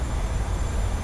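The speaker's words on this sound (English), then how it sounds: "Don't listen to the train." A train passes, producing a steady, loud low rumble and rolling roar that fills the whole short stretch without a break.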